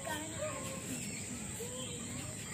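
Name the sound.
birds chirping outdoors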